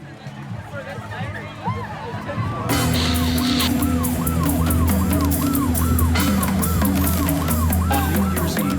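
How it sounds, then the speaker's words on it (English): An ambulance siren wails in rising and falling sweeps through Ho Chi Minh City streets on a Tet New Year's Eve, loud and close over steady traffic and crowd noise, with people talking. "an ambulance speeds through the streets as the Vietnamese people celebrate their Tet holiday"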